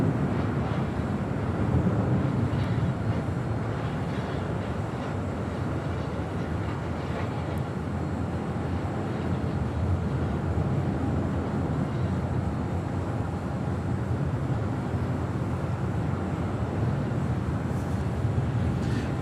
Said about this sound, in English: That was American Airlines flight 1987 heading to Chicago O'Hare in that A321.